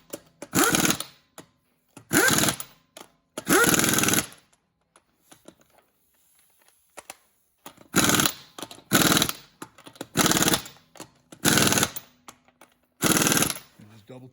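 Bursts of a cross bar wrench tightening wheel lug nuts on a Ford Explorer during tie rod work, about eight short loud ratcheting spells separated by pauses, the longest quiet stretch in the middle.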